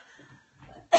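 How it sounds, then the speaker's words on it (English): A single sharp, loud cough bursts out at the very end, right after a stretch of quiet, faint room sound. "I just have a little bit of a leftover cough from that."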